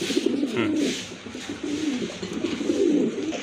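Pigeons coo continuously in soft, rolling low phrases, close by, with a faint hiss of background noise and no talking.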